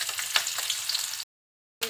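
Chopped onion sizzling in hot oil in a wok, a steady bright crackle that runs strongly for over a second, then cuts to silence before briefly returning.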